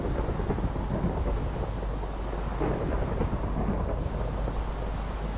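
Steady roar of rain and rumbling thunder during a thunderstorm in the Minecraft video game, loud and continuous throughout with no voices.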